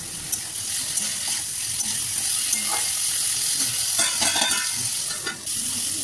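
Spice paste stirred and fried in a pan while cooking Malabar spinach chorchori, a steady close sizzle with repeated scraping strokes of the spatula throughout.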